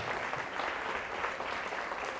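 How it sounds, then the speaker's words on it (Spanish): A church congregation applauds, a dense, steady burst of many hands clapping at full strength throughout, close and uninterrupted. "Fuerte el aplauso al Señor y a la Madre Santa."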